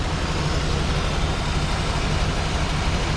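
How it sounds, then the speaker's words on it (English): A classic car engine idles unevenly and slightly rich, giving a steady low rumble with an irregular pulse, close and continuous with no talking. "It's idling now."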